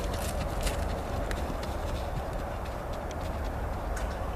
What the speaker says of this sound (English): getting this horse to walk through his body